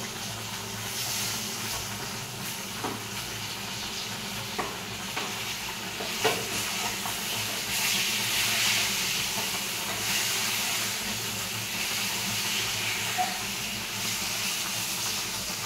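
Mango pieces dropped into a frying pan of oil with salt and turmeric, giving a steady close sizzle and hiss with occasional stirring clicks, no talking.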